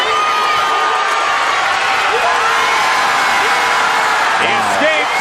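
A wrestling arena crowd roaring with cheers and whoops, loud and sustained, with rising shouts near the end as the noise swells.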